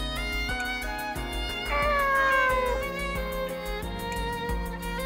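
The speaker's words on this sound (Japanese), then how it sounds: "この猫ちゃん、アーナスの戦いを見ている間にお友達になったの。" A cat meows in the video game Nights of Azure, with a short drawn-out call rising above steady, layered game music.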